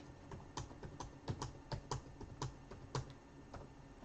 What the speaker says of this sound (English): I'm just typing in 1 through 8.